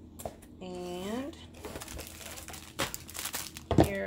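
A plastic bag wrapped around a diamond painting canvas crinkles and rustles in uneven bursts as it is handled and opened, while a person talks over it.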